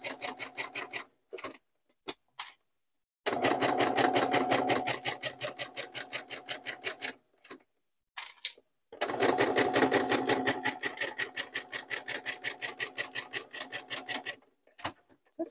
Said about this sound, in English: It actually takes less time to do the top stitching, especially after clipping it